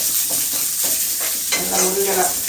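Onions sizzle in a pan with curry leaves and mustard seeds, a dense continuous frying hiss with soft stirring scrapes, loud and close throughout.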